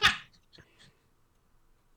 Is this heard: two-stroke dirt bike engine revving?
no